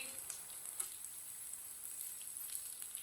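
Raw mango peel pakoras frying in hot oil, a faint, steady sizzle with soft crackles running throughout, no voices.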